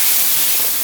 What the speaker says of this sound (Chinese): 我浇点水吧。